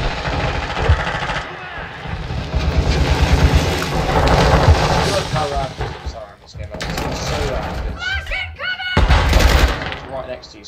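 Call of Duty Modern Warfare 2 multiplayer with a thudding stun grenade burst amid rapid gunfire and bursts of noise, loud and chaotic, with a player talking over it.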